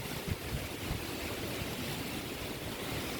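Strong wind roars over heavy monsoon rain in Bokhira, Porbandar, a dense steady broadband rush with buffeting gusts against the microphone and no voices.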